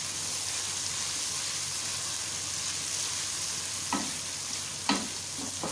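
Garlic and ginger sauté in oil in a pan, giving a steady, moderately close sizzle with soft stirring scrapes and a few brief clinks near the end.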